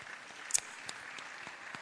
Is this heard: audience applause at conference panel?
yes